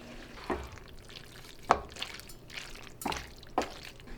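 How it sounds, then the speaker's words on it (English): Fettuccine being mixed with ricotta, lemon and cheese, giving soft, wet squelches and a few sharper scraping clicks spread over several seconds, near and alone. "And we mix."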